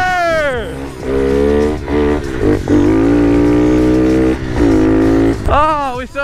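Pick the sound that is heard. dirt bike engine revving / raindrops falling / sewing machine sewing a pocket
dirt bike engine revving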